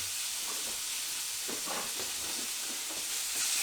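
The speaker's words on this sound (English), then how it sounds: "we can put our chicken into the pan" Chicken pieces sizzling in a hot frying pan during home cooking, a steady soft hiss and crackle with faint clinks, no voices.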